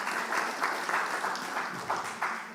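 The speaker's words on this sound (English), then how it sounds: "A round of applause for the society as well." Live audience at a panel on music copyright and intellectual property applauds steadily, with a dense, even patter of many hands clapping and faint rhythmic swells, no voices over it.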